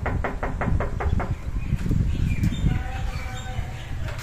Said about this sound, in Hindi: अब दोबारा अब आप दरवाजा खटखटाएं